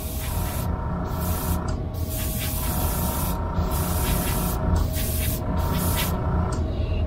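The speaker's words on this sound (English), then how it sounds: "So it's a spray and then I can hear it hit." A steady hiss of paint spray hitting a plastic model kit runs throughout, with a constant low hum beneath and short breaks where the airflow briefly stops and restarts.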